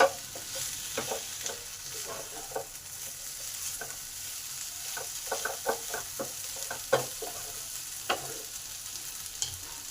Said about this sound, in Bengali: এবার এগুলো ভালো করে একটু কষে নেব।